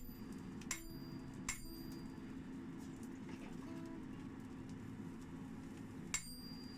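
Hand forging: a hammer drives a punch through a hot billet, four sharp metallic strikes spaced irregularly and fairly faint over a quiet workshop background, with no talk.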